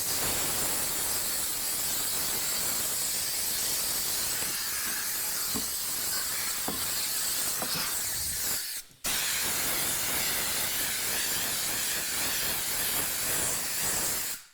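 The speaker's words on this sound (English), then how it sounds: "One tool you're going to want to have, compressor" Compressed air hissing steadily from a compressor nozzle, blowing dust off a media cabinet in a workshop; a loud, continuous broadband rush that cuts out briefly around the middle, then resumes until the end, with no voices.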